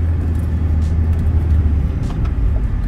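A DS5 Hybride car engine rumbles close by, a loud low steady drone of a vehicle approaching on the road.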